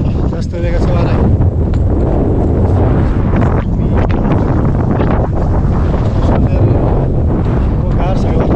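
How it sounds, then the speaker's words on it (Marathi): Strong wind gusts over a hilltop fort just after rain, roaring and buffeting the microphone loudly and continuously throughout, with no other sound standing out. "पाऊस जरी थांबला असला तरी आता गडावर जास्त वेगाचा वारा आहे."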